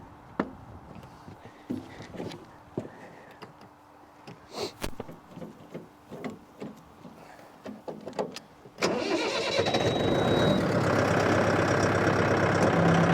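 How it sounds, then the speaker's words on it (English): A Mahindra 5100 series 4x4 tractor engine cranks and fires, then settles into a loud, steady diesel idle up close after several seconds of quiet clicks and shuffling. "we'll start it up and see what you guys think"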